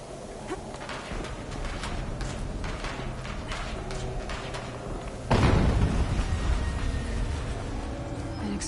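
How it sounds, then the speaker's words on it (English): Explosion in a tank video game, a sudden broadband blast about midway that lifts the level and stays loud and rumbling after constant battle noise. "An explosion."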